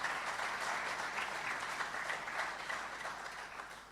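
An audience at a live regional address applauds steadily and loudly for the full stretch, a dense wash of many hands that fades slightly toward the end.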